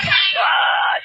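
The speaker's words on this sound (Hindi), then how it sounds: "चीखे, हॉरर फिल्म के साउंड इफेक्ट्स यहाँ से लिए जाते हैं" A horror-film style scream sound effect, a single sustained shrill wail that holds steady for about a second, loud and up close with no other sounds.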